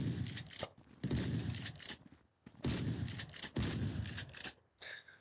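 Several heavy, booming shotgun blasts from the video game SWAT God fire in quick succession, each with a short decaying tail, loud and close with no voices.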